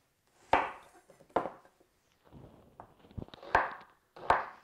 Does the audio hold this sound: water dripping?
no